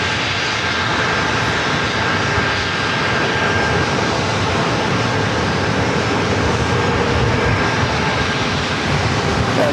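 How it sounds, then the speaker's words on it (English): A United airliner bound for Newark takes off from San Diego airport, its engines roaring loud and steady for the whole stretch with no voices. "That United flight heading to Newark, now ready for takeoff."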